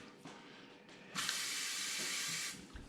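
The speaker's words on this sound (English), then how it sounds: "It's on now. So do I have to wave again to make it stop?" Water streams from a motion-sensing pull-down kitchen faucet into the sink, starting suddenly with a bright steady hiss that runs for over a second before cutting off, after a quiet lead-in.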